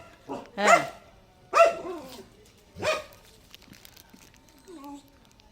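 A pet dog at home near a door gives three loud, close barks about a second apart, followed by fainter whimpering sounds, with some human voice mixed in.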